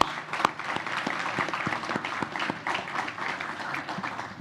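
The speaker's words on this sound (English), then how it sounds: "let's give all of them one last round of applause" Audience gives a final round of applause for grant awardees at an agtech award ceremony, a short, moderately faint burst of clapping from a modest crowd.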